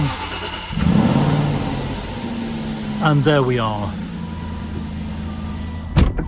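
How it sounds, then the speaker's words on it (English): An Aston Martin Vantage V8 engine cranks and fires up, then settles into a deep, steady rumble with a brief rev; someone speaks briefly over it near the middle. "That lovely rumbling note of the Aston Martin engine"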